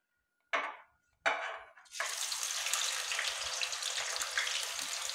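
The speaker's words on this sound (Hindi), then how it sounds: "और ये जितनी प्याज हैं सारी इसको फ्राई करके रख लेना है।" Onions going into a hot pan for biryani, two short splashy hisses followed by a steady dense sizzle that holds loud and close.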